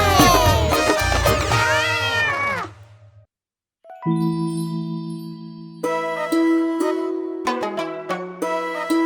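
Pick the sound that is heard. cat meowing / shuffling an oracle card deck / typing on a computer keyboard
cat meowing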